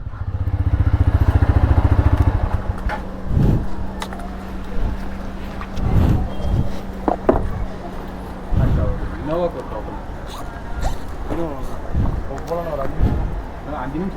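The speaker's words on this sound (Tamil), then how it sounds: "ஆமாங்க, பைக் போகிற மாதிரி இருக்குது" A motorcycle on a road rumbles loudly up close for about two seconds before its engine fades back, and people talk over intermittent road clatter for the rest.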